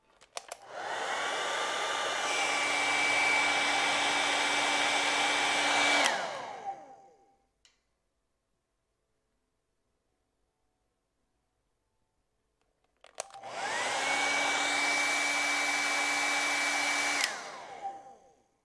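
A hair dryer blows on thinned acrylic paint in two long runs of steady whirring hum, each several seconds long, separated by a silent pause.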